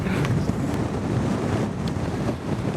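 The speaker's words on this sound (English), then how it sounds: "It's so windy. Almost knocked me over just standing here." Strong gusty wind buffets the microphone on a steep mountainside, a loud, continuous low roar that swells and dips in gusts for the whole stretch, with no talking.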